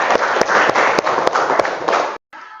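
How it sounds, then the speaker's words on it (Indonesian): Classroom applause for a student in a biology lesson: a dense burst of clapping from a group of pupils, loud and steady for about two seconds before cutting off abruptly into a brief quieter tail. "Kasih tepuk tangan dulu buat saudara."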